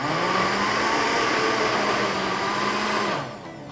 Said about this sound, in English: This is the first time using the blender.